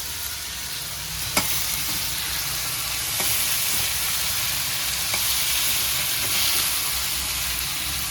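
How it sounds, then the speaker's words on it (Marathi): Cluster beans (guar) fry in hot oil with a constant loud sizzle, and a few sharp clicks of stirring break through the even hiss. "आता ही गवार आपण अशी तेलात परतळेला ठेवून देऊया"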